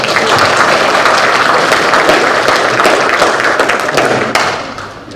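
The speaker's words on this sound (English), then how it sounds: "let's go ahead and clap anyway." Delegates at a 2025 meeting clap together after a motion passes by acclamation, a loud, dense burst of applause that holds steady and then fades in the final second.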